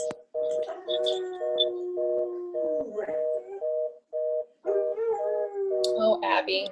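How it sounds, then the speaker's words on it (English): A dog howls nearby at a phone in long, wavering tones with short breaks between them, while a person speaks briefly over the howling. "that is a dog in the background howling at the phone"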